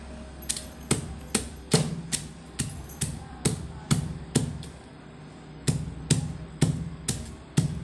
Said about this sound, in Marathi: अशा पद्धतीने मिरची कुटून घ्यायची